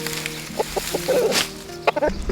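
Chickens cluck softly and intermittently nearby, a few short calls over quiet outdoor background noise.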